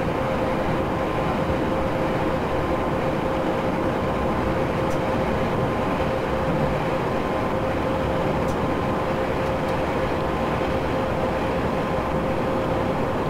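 A steady, loud rumble of a train running away in a train simulator video game, continuous and unbroken, with a faint sustained tone over the noise.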